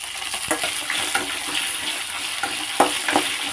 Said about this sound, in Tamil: இது வெங்காயம் கொஞ்சம் நேரம் வதங்கட்டும்.